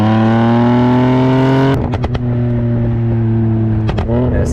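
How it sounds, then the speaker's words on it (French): An Infiniti Q50 Red Sport 400 engine holds a loud, sustained rev, then drops off into a burst of sharp exhaust pops and burbles, with another short crackle a couple of seconds later. "une Q50 Red Sport a le Burble qui pétasse"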